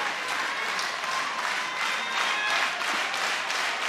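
A packed crowd at Korakuen Hall applauds steadily through a New Japan Pro-Wrestling title match, the dense clapping continuous and loud with faint cheering mixed in.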